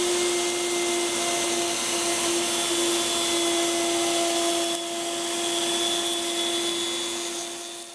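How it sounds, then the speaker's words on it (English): A shop vacuum drones steadily and loudly while a guitar fretboard is flush cut, its constant whine and hum running without pause and easing slightly near the end. "Let's get this fretboard flush cut. Let me turn the vacuum on."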